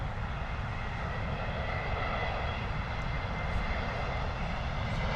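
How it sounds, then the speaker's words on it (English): A JetBlue Airbus A321neo comes in to land at London Heathrow, its engines giving a steady, even roar at moderate distance for the whole stretch, with no voices. "JetBlue A321neo coming in with the ribbons coming off with the flaps there"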